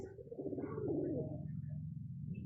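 A domestic pigeon coos in low, rolling, throaty phrases, close and fairly soft, with no talking.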